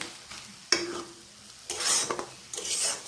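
Greens cooked with rice-flour paste are stirred in a pan, with a sharp scrape followed by bursts of sizzling and spatula scraping, close and fairly quiet.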